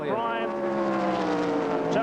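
NASCAR race cars roar along a back straight at a 1993/94 final-round race, a continuous high-pitched engine whine with shifting tones as the pack passes, under a commentator's voice.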